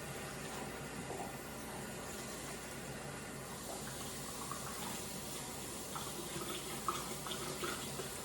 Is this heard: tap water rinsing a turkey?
yes